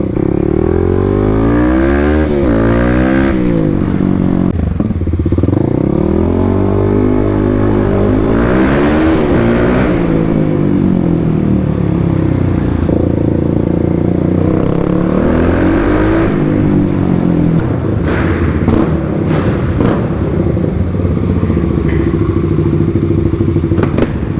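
Kawasaki KLX300 and KLX351 dirt bikes race on a paved road, engines loud and close as they rev hard through repeated gear shifts with rising and falling pitch, plus wind buffeting and occasional clatter and thumps.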